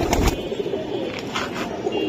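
Several pigeons coo nearby in short repeated calls, with a couple of sharper bursts at the start and scattered softer coos after, under a faint background hum.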